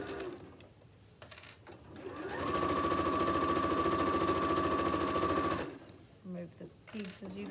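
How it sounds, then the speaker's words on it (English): A domestic sewing machine stitches an apron edge, running a steady loud buzzing whir for about three seconds between quieter handling noises and brief starts. "Sew forwards, sew back."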